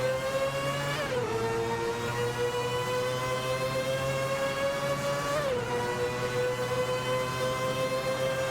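Group C race cars lapping a track in a racing video game, a sustained high engine whine heard steadily at moderate level, its pitch dipping sharply twice as gears shift, with no talking.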